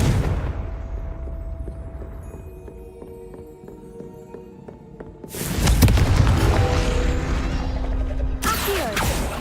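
A Confringo blasting spell explodes in Hogwarts Legacy with a sudden loud burst that cuts through quieter ambient tones, followed by a sustained crackling blast and a second sharp impact near the end.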